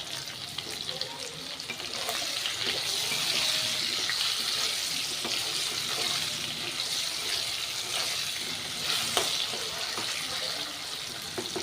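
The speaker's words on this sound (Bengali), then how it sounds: "সবজিগুলো একটু নাড়াচাড়া করে কষিয়ে নিতে হবে, ভাজা ভাজা করে নিতে হবে।" Vegetables seasoned with salt and turmeric are stirred and fried in a pan, a soft steady sizzle broken by repeated spoon scrapes and clinks, fairly faint and close, without speech.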